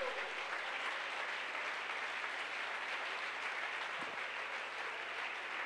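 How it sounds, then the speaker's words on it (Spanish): A church congregation at a Sunday school service applauds, a continuous, even patter of many hands clapping at moderate volume with no talk over it. "Aplauso."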